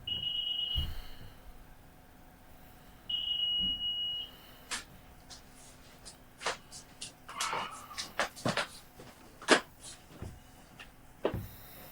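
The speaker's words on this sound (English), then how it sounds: "I have this stupid alarm that keeps beeping because it's not hooked up to anything, so it's been doing this random beep shit." An unconnected alarm unit gives off sporadic electronic beeps, two sustained high tones near the start followed by scattered clicks and knocks in a quiet room.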